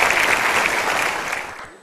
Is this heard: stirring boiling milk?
no